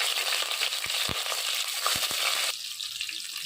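Onions tip into hot oil already crackling with mustard seeds, cumin and fenugreek, making a dense, steady sizzle broken by a few sharp clicks and taps of a spoon against the pan. The frying hiss shifts slightly in tone partway through, and no one speaks.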